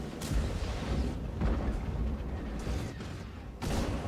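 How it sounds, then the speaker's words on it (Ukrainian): Enemy artillery fire in World of Tanks, a steady rumbling barrage of booms and impacts with several sharper blasts standing out, heavy and continuous across the span with no voices. "Артилерія суперника не відпускає."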